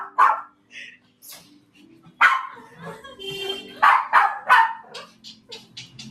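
A dog barks a few times in short yips amid a lively outdoor Holi celebration in India, with several people talking and laughing over and between the barks.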